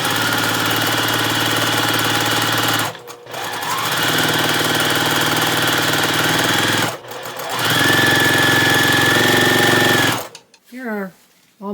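A sewing machine runs in three long, loud stitching bursts as printed and solid fabric squares are joined for a charm pack quilt, with brief pauses between runs and a short squeak at the end.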